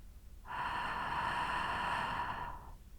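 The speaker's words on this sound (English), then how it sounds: "The friction noise remains the same, both when inhaling and exhaling." A long nasal breath drawn through the nose during a guided meditation, a steady hissing friction noise swelling in and holding for about two seconds before fading, close and alone with no talk.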